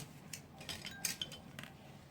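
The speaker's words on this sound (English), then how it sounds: "So here I'm adding in cardamom, cloves, cinnamon," Whole cardamom, cloves and cinnamon for masala tea dropped into a container, making a few light, faint clinks and small rattles close by, with no talking.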